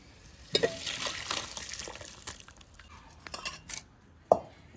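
Shoal fish curry bubbling and sizzling in a pan, with close stirring scrapes and a few sharp utensil knocks against the pan over steady frying hiss.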